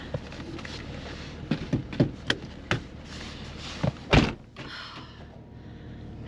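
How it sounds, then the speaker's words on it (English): A Jeep Cherokee fitted with tracks has its door shut, heard as a few sharp knocks and thumps with one heavier slam near the end, close by over a low steady hum. "Don't get slammed in the door."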